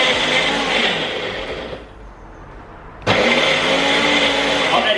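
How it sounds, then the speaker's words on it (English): A kitchen blender on its Ultra Blend setting whirs loudly while mixing a thick homemade protein shake, dips to a quieter churn midway, then surges back to full power abruptly. "Turn it on, pick whatever one, Ultra Blend I guess."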